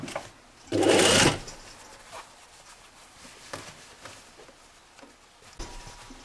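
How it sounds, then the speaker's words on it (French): Sewing machine topstitching the hem of a jacket sleeve, one short, loud run of rapid stitching followed by faint handling and rustling of fabric. "On retourne notre manche à l'endroit et oui. on surpique l'ourlet."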